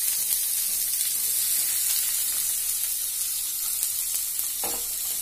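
Urad dal and cumin frying in hot oil as onions go in, a steady broad sizzle and hiss, close and continuous, with a brief stirring scrape near the end and no voices.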